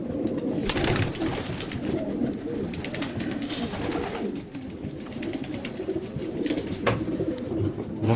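Several pigeons cooing in low, overlapping murmurs, with fluttering and shuffling noises throughout and no talking.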